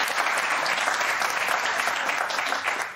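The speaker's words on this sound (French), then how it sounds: "qu'on applaudit également" A French television studio audience applauds a guest being welcomed, a dense, steady burst of many hands clapping that fades a little at the end.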